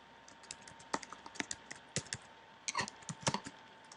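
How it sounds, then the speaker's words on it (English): Keys clatter on a computer keyboard in irregular bursts of quick, close taps with short pauses between runs, no voices over them. "And now I can start typing."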